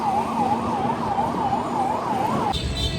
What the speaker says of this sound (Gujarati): બીજી એમ્બ્યુલન્સ